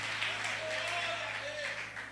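Church congregation clapping during a worship service, a steady wash of applause under a preacher's voice that keeps talking over it.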